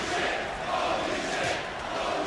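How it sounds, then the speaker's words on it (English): Wrestling crowd at an independent show cheering and roaring in a steady, dense wash of voices, loud and continuous throughout with slight swells, no distinct announcer speech. "The crowd has been very into this match so far."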